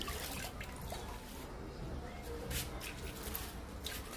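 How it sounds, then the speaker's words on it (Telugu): Water sprinkled over indoor potted plants at a tap to rinse dust off the leaves, a faint, continuous patter and splash with scattered drips. "ఇలా చల్లాలండి, బాగా దుమ్మంతా పోయేటట్టు మొక్క మొత్తం తడపాలి వాటర్తో"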